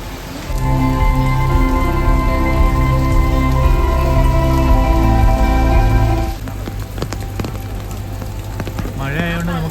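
Dense, steady patter of rain on a surface fills the background at Kollur Mookambika Temple, with a strong tonal hum present for most of the stretch, then fading.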